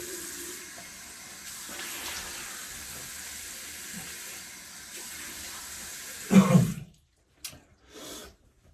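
A tap runs while someone rinses off during a wet shave, giving a steady, soft stream of water that stops abruptly, followed by a couple of brief splashes, close and quiet, with no speech.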